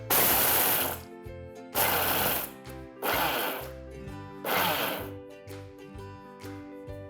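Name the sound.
mixer pulse-blending dry chutney of ginger, garlic and dhania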